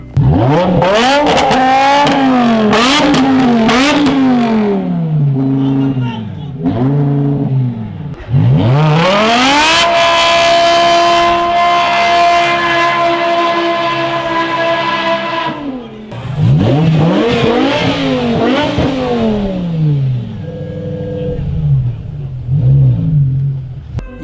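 A BMW E60 M5 revs its engine with exhaust roaring up and down in quick blips, holds a long high-pitched rev, then blips again in sharp bursts, loud and close with no voices.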